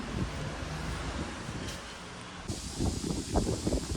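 Strong wind blowing outdoors on a cold, lightly foggy morning, a steady rushing roar buffeting the microphone throughout, growing gustier in the second half, with no talking.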